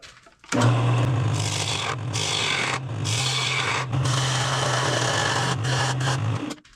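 A wood lathe hums steadily while a cutting tool scrapes continuously against a spinning, punky firewood bowl blank, flattening the top, with brief pauses between passes, loud and close.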